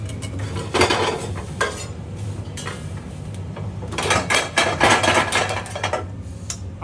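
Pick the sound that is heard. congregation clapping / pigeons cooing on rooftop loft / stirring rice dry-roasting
stirring rice dry-roasting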